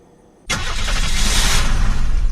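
In the video game Unturned, a car engine cranks to life after a brief quiet moment, then settles into a loud, steady running roar.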